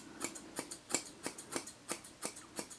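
Chunker scissors snip coarse hair at the bottoms of a dog's ears in a close, steady run of about eight crisp cuts, each a sharp metallic click spaced roughly every third of a second.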